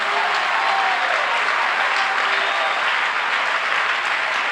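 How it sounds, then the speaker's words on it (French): A church congregation applauds and cheers loudly for Jesus during a sermon on the mark of the beast, making a dense, sustained roar of clapping from many people. "Est-ce qu'on peut acclamer Jésus très fort?"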